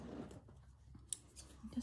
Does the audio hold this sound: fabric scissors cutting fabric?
yes